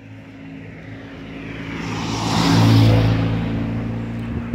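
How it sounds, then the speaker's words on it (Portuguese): A car crosses a narrow, broken-down one-lane bridge in the jungle, its engine rumble building to a loud, close peak midway before easing off, with no talk over it. "Dá uma afastada aqui pro carro passar."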